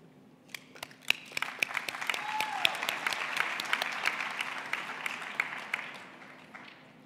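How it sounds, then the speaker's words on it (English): Graduation ceremony audience applauding at campus ceremonies in Bloemfontein and Welkom, a steady wash of clapping that swells and then slowly tapers off, with sharp individual claps standing out above the crowd. "We'd like to give you a big applause."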